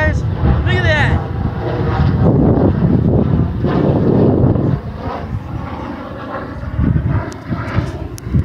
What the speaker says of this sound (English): Look at that airplane up there, you guys.